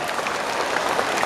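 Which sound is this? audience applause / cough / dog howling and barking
audience applause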